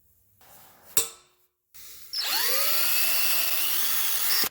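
A sharp click, then a power drill fitted with a step bit whirs up to speed and runs steadily, loud and close, with a high whine that rises at the start.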